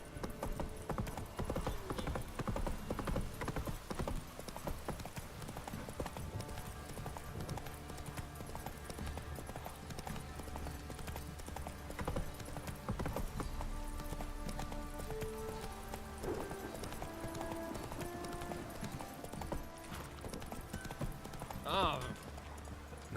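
Hooves of the horse galloping in The Witcher 3: Wild Hunt, a steady rapid clip-clop running throughout beneath game music and a person talking.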